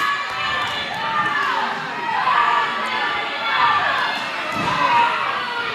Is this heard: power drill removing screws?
no